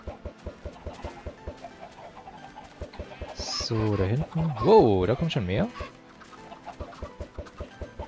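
Cartoonish electronic chicken clucks from Minecraft with the Industrial Craft 2 mod burst out briefly over a steady ticking game rhythm, with a person talking.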